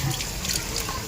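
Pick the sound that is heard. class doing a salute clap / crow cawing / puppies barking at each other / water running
water running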